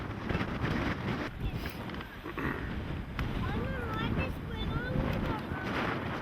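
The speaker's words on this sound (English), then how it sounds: "It's a bit windy up here." Gusty wind buffets the microphone with a steady low rumble, while people talk intermittently over it.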